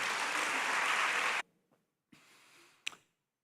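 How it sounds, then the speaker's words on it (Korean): A church congregation applauds during a Sunday worship service in a dense, even roar of clapping that cuts off abruptly, followed by near-silence and a few faint thumps and rustles. "은혜 주신 하나님께 영광의 박수 돌리겠습니다."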